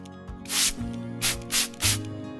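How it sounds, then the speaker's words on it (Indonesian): Aerosol leather shine sprayed onto cowhide cut to a pattern: four sharp hissing bursts, close and fairly loud, separated by short pauses, with no talking. "semprotkan pengkilap kulit pada kulit sapi yang sudah dipotong sesuai pola"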